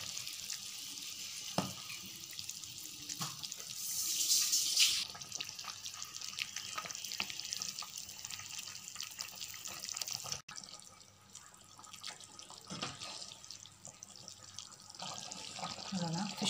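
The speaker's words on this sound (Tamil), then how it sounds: "குழம்பு நல்லா கொதிச்சிருச்சு." Tamil fish gravy boils in a pot, giving a soft, continuous watery bubbling and dripping with a brief hissy rise partway through, heard close with no talk.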